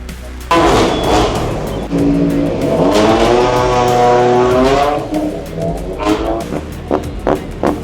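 British Touring Car Championship race cars on the grid before the start of round 19, engines loud and close, one rising rev sweeping up and falling back, with blips from other cars and a voice briefly over it.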